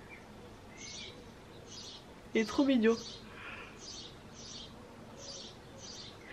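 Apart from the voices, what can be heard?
small bird singing on a roof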